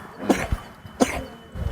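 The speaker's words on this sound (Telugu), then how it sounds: "దగ్గుతుంది బాబు" A person coughing in two short, close bursts about a second apart, followed by faint rustling.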